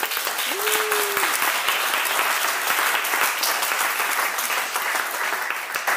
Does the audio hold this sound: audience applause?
yes